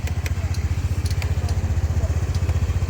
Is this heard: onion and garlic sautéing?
no